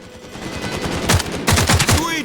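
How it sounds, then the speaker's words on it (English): Enemy shooters in the video game Caliber fire their guns in short bursts of a few shots with pauses between, loud and close, with a voice talking faintly underneath. "These guys shoot a couple of times and pause"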